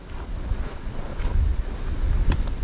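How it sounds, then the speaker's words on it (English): Strong blizzard wind roars and buffets the microphone outside a house, a steady loud rumble that swells in gusts, with no talk. "Oh, here comes the wind again."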